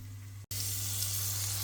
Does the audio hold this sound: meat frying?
yes